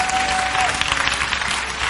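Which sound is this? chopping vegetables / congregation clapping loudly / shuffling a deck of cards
congregation clapping loudly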